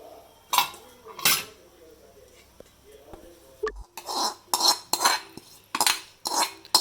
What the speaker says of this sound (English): We are going to mix all the contents now. So onions and carrots and